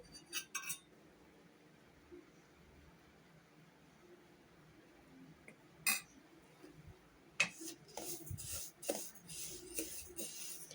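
Black sesame seeds roast in a spoonful of ghee in a pan. A spoon gives sparse, quiet clinks and scrapes against the metal, with longer pauses and then a busier cluster of taps near the end.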